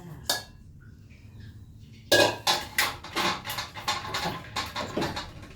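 Omelette rice being set onto a plate, with a run of clinks and scrapes of utensil against dishware in a home kitchen, quiet at first, then a busy clatter of repeated knocks.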